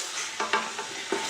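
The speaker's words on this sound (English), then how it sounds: "Now my tomato stew has been frying for about 15 minutes" Steady sizzling and bubbling of tomato stew frying in a pot for jollof rice, with a few soft scraping stirs, close and continuous.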